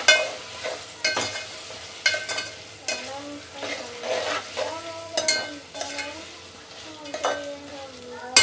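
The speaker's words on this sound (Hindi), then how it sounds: "यहाँ पे मैंने जिंजर गार्लिक डाल दिया है मिर्ची डाल दिया है" Ginger, garlic and crushed chilli frying in a pan for chicken pulao, a steady sizzle with intermittent stirring scrapes and clinks, close and fairly quiet, with no talking.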